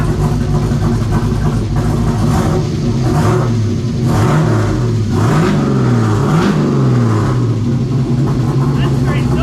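Mitsubishi Starion with a swapped LS V8 engine, loud and close, rumbling steadily while the throttle is blipped in several quick rising and falling revs, with voices talking over it.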